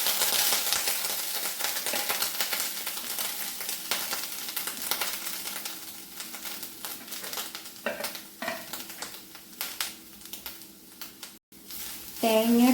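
Grated coconut fries in coconut oil in a cheenachatti for chammanthi podi, a steady close sizzle with scattered stirring scrapes and clatters toward the end.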